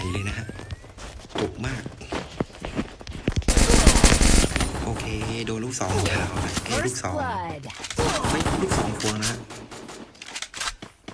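Burst-fire gun shooting in the Free Fire mobile game: rapid, loud volleys that peak in a dense barrage, with someone talking over the action.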